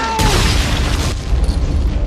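A German tank fires in a war film: one heavy, loud boom with a deep rumbling tail that carries on for about two seconds.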